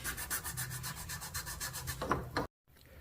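Glued wood molding on a 1934 Ingraham mantle clock case is rubbed by hand, giving close, rhythmic back-and-forth scraping strokes that stop abruptly near the end.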